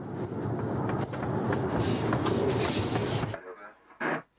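A steady loud hiss and rumble of a steam locomotive being prepared in a running shed in Cumbria fills most of the clip, then stops abruptly, followed by a short burst of noise.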